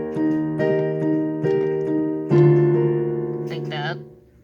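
Piano playing a passage of a song, several rich chords struck in turn and left to ring, building to a fuller, louder chord near the end before fading, close and alone.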